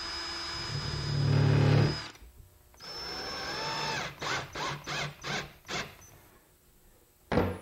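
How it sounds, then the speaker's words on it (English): A powered screwdriver whirs in short bursts, tightening a screw into a cabinet's magnetic catch strike plate, close and fairly loud, with a stuttering run of quick pulses near the end. "and then tighten up the screw"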